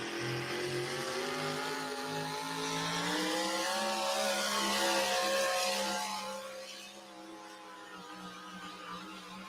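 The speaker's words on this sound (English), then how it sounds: "hitting the rev limiter right there at the end" An 800-plus cubic inch, roughly 1,900-horsepower drag racing car screams down the strip at a South Dakota Outlaws event, its loud engine note climbing steadily in pitch, then holding flat as it bangs against the rev limiter before fading slightly.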